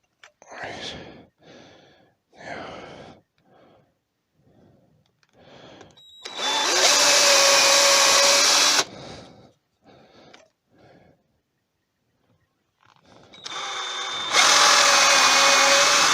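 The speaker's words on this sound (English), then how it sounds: "I'm going to drill a pilot hole with this one for all of the holes." A power drill bores a pilot hole in wood during woodturning, whining loud and steady in two long bursts, with someone talking in short phrases before and between them.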